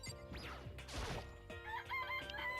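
Chickens crow and cluck in Danganronpa, rising crowing calls over game music and a brief crash, fairly loud with no talk.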